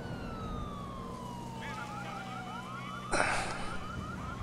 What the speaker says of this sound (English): man, there's a lot of sirens going on.